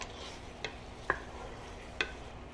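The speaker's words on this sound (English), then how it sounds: "You want to continue to stir every now and then until the meat is brown." Goat meat coated in sugar browning in a pot, a soft steady sizzle with a few sharp spoon clicks against the pan as it is stirred, quiet and close.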